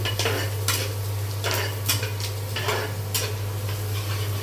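Onions and chilies fry in a pan for chow mein, a soft constant sizzle broken by regular scraping strokes of a spatula, with a steady low hum underneath.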